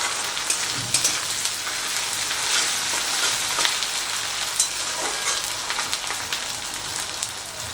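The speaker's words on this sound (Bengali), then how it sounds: "মিনিট খানেকের মতো আদা রসুনটা দিয়ে ভেজে নিয়েছি।" Ginger-garlic paste frying in a pan for a broccoli curry, giving a steady, dense sizzle with light crackles, close and even throughout, with no talk.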